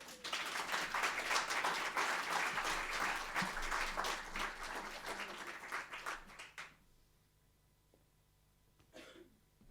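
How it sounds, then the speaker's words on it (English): An audience at a live book event in a theatre claps for a guest author, a steady burst of applause about six seconds long with a few coughs that fades out, then a brief throat clear near the end. "So please join me in giving Katherine a round of applause."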